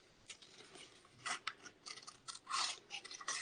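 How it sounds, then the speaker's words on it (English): Scissors snipping through a sheet of scrapbooking paper, a quick irregular run of close, crisp cuts with faint rasping between strokes, alone and fairly quiet. "So I'm going to come in and cut this piece out."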